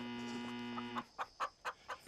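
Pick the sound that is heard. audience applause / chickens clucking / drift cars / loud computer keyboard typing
chickens clucking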